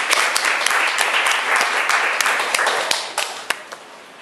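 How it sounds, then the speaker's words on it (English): Audience applause welcoming a speaker to a talk on safety culture, a steady wash of many hands clapping close by that thins out into scattered claps near the end. "with a big round of applause"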